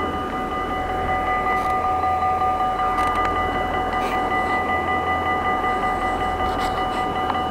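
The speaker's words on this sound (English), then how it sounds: "Let's actually stop here and wait for the train to move." Train running on the Groningen to Eemshaven railway line near Sauwerd, a steady mid-distance rumble of wheels on rails with tonal squeal lines and occasional clanks, continuous throughout with no voices.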